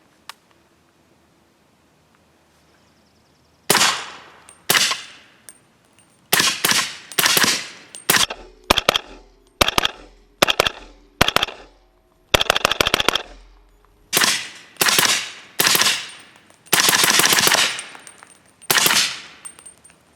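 Rifle fired with ETS polymer magazines, loud close gunfire in rapid bursts and quick strings of shots over about sixteen seconds, separated by short pauses, with no talk.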